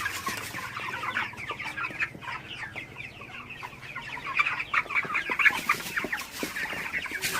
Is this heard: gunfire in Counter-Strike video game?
no